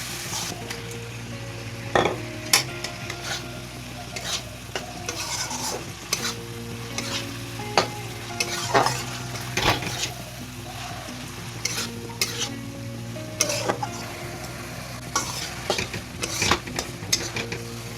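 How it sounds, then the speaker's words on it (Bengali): A spice masala for chicken ghugni, with salt and a little sugar, is stirred and sautéed in a pan. A spatula scrapes and taps steadily over a continuous low sizzle, close and clear, with no talking. "মশলাটা কষিয়ে নিচ্ছি।"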